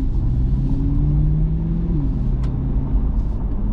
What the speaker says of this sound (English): just barely accelerating, I'm already to fifth gear with super quick shifts